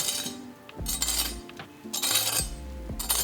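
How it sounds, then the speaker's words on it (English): Crispy baked Korean pancake scraped and tapped in its pan, giving repeated sharp metallic clinks and crackly scrapes in quick bursts, close and fairly loud with no talking. "Listen to this crispiness."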